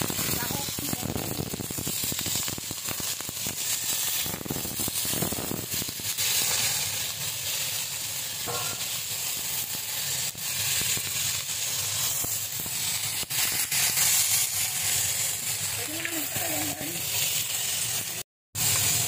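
Onion and chicken wings sizzling in a pan while cooking sopas, a steady loud frying hiss with crackles and occasional stirring, someone talking over it throughout.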